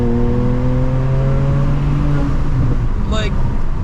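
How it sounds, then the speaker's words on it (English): BMW 335i engine revving hard under acceleration, heard loud from inside the car, its pitch climbing steadily before a quick sharp rise as it shifts near the end. A voice talks over the engine. "almost feel like I'm having more fun with the sounds of this car than the speed"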